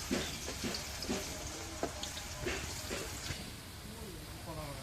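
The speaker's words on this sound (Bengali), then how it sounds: "পেঁয়াজ কুচিটা একটু লাল লাল করে ভেজে নেবো" Chopped onions frying in hot oil in a pan until reddish, a soft continuous sizzle with faint clinks and stirring taps, fairly quiet throughout.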